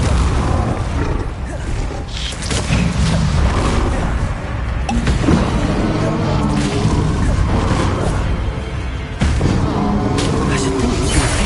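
The Confringo explosive spell from the video game Hogwarts Legacy bursts amid loud, dense, continuous battle noise, with heavy booming blasts layered over a rumbling din and voices mixed in.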